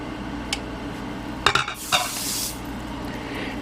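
Ingredients for beer mustard dumped into an Instant Pot and stirred, a few sharp clinks and a brief wet splashing rush, then a soft steady hiss fading out.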